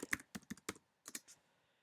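A short run of crisp keyboard clicks, about eight keystrokes in two quick bursts with a brief pause between, close and clear with no talking.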